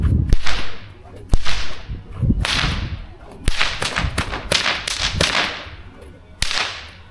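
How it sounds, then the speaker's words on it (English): A stockman's foiling whip cracks repeatedly with little effort, sharp loud snaps spaced irregularly, each trailing a swishing rush of air, in an outdoor setting at Longreach, western Queensland. "So if you've got a good foiling whip, everywhere you point that whip, it should just crack"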